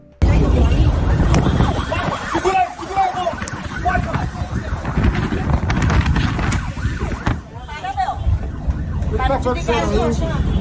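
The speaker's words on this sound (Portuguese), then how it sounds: "o Pablo, depois de ter tomado a cadeirada, saindo ali na ambulância" An ambulance siren wailing as the ambulance pulls away through traffic, rising and falling tones heard under continuous talking and street noise.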